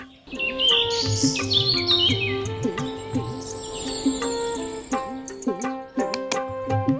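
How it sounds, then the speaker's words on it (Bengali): Birds chirp and call in a Bangladeshi village in the early morning before sunrise, several overlapping songs and sharp tweets close by and continuous throughout. "যেন পাখির শব্দই প্রকৃতির হার্টবিট।"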